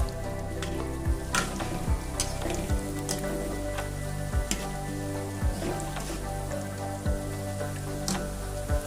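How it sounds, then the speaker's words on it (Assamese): Khurma sweets frying in hot oil in a wok over a medium flame, a steady soft sizzle and bubbling with occasional sharp clinks of a utensil against the pan. "মিডিয়াম ফ্লেমত ৰাখি পেলাই খুৰমাখিনি ভাজিব"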